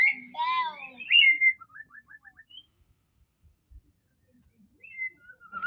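A young white-rumped shama (murai batu), a pastol just after its first moult, sings in short bursts of clear whistled phrases and quick chirps with quiet gaps between them.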